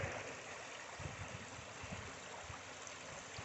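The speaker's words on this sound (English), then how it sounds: "Water's too high right now, flowing too fast." A fast-flowing, high creek rushes steadily, a soft continuous wash of water heard faintly and alone.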